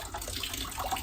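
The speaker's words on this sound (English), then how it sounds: "it'll just let some air in, which will allow more of the water to come out." Water drains out of the filter on a Viessmann Vitodens 100 boiler after its air vent is opened, a soft, steady trickle and splash of running liquid, close and quiet, with no talk.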